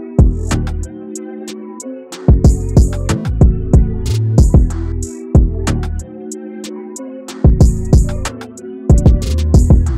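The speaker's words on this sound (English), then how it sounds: "After that, the final part was just this open hat." Dark trap beat loop programmed in FL Studio, heavy sub bass and punchy kicks under a moody melody, with an open hi-hat layered on top; loud, steady rhythmic pattern with brief drops where the drums cut out.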